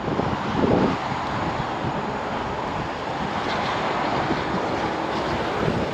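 Strong wind gusts across the Outer Banks coast in a steady, loud, close rush of buffeting noise. Crashing surf may sit underneath, and there is no speech.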